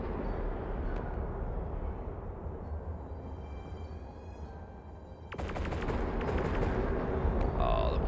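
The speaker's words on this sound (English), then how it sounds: "He's got these little laser cannons over the top of the little dual barrel." Laser cannons fire in a space battle in the video game Empyrion, a rapid burst of sharp repeated shots over a low droning background of ship noise.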